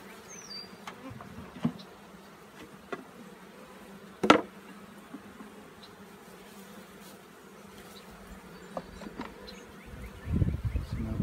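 Honeybees buzz around an opened swarm trap hive, a low steady hum with occasional louder passes and a few knocks near the end, no talk.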